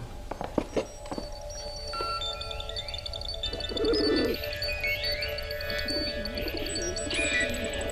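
Birds call inside a huge greenhouse full of plants under a vaulted roof of red and green glass, with pigeon-like coos and scattered chirps and whistles over a quiet, airy room tone.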